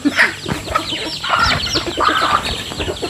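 Chickens cluck in short, repeated bursts nearby, moderately loud and irregular, with soft background rustle.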